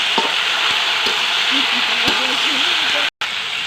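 Jujubes hitting hot oil tempered with panch phoron, cardamom and garam masala: a loud, constant frying hiss with stirring taps, close up, while a voice talks over it.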